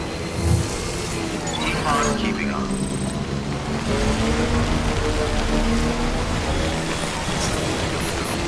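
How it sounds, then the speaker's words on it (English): Steady game rain called timefall falls continuously across a wide area, a dense hiss with drops on surfaces, heard under a voice speaking throughout. "We've been getting near constant timefall in this region for a while now"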